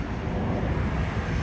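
A jet airliner on final approach at LAX makes a broad, steady roar, loud and continuous, with wind buffeting the microphone and no voices.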